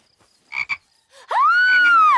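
A frog croaks loudly and close in a cartoon scene: two short rasping pulses, a pause, then a long drawn-out croak that rises and falls, standing alone without talk.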